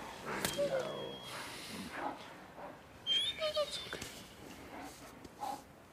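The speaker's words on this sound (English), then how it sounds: "He's not infected. He's just a dog." A dog whimpers in the zombie survival game Days Gone, giving a few short, high whines in two bursts over quiet game ambience with faint background voices.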